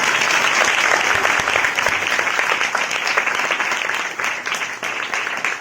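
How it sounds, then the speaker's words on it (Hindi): A Hindi church congregation claps loudly and continuously during a Sunday service, a dense, even roar of many hands sustained for several seconds before easing slightly near the end. "आपकी जोरदार ताली के साथ"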